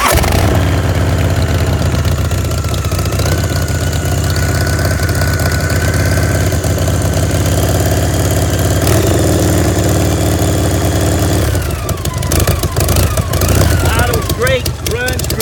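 A 2002 Bourget motorcycle with an S&S carburetor idles loud and close, a steady deep throbbing engine running throughout, with someone talking over it.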